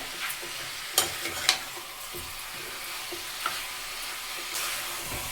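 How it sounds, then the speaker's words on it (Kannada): Plain chicken pieces with salt sizzle in a pan as they release their water, a continuous near hiss with a few sharp stirring scrapes and knocks of the utensil, no voices. "ಅಲ್ಲಿವರೆಗೂ ಬರೀ ಚಿಕನ್ನ ಉಪ್ಪು ಹಾಕ್ಕೊಂಡು ಈ ಥರ ಫ್ರೈ ಮಾಡ್ಕೊಳ್ಳಿ."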